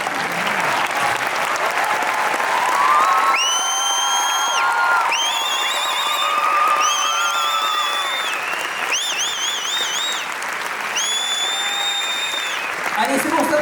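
A live comedy show audience applauds two participants as they return to their seats. The clapping is loud and continuous, with whoops and bright, rising tonal accents over it.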